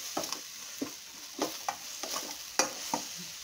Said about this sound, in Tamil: இப்போ கதை எண்ணெய் ஊற்றிருக்கேன். இப்போ இது நல்லா வதங்கட்டும்.